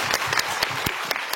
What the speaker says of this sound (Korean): 네, 박수를 한번.